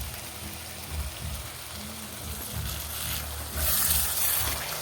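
Spices hit hot oil in a wok, making a close, continuous hiss and sizzle that swells louder near the end. No one talks.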